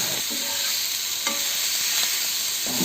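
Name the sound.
sautéing ingredients in a pan for oats dosa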